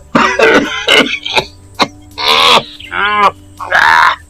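A person coughs and clears their throat repeatedly, close up, in harsh bursts with strained, groaning breaths between them.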